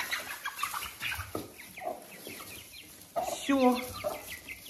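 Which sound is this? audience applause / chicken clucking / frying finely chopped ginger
chicken clucking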